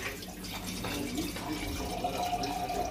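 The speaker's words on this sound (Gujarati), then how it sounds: "ત્યારબાદ આની અંદર એડ થશે પાણી, રેગ્યુલર પાણી એડ કરવાનું થશે." Water poured into lentils for dal: a continuous soft pouring and trickling sound, close and fairly quiet, with no talking.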